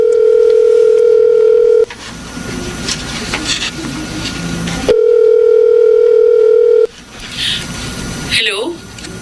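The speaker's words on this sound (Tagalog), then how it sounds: "Tatawagan ko siya gamit yung cellphone ko." A mobile phone gives off a steady, loud dial tone that cuts off at intervals, with gaps between the bursts and brief beeps near the end.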